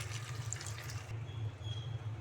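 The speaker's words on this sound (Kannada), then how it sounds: "ಕಾಲು ಕಪ್ಪು ನೀರು ಹಾಕಬೇಕು" A quarter cup of water is poured into a pan of chicken fry, making a brief, soft splashing pour over a low kitchen hum with no talk.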